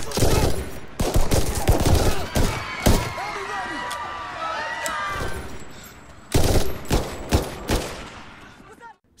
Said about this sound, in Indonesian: Aksi baku tembak pun akhirnya terjadi